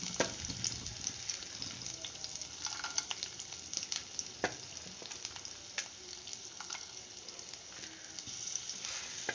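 Garlic, mustard seeds and chana dal sizzle in hot oil, a close, continuous crackle with scattered pops and spits throughout and no voices.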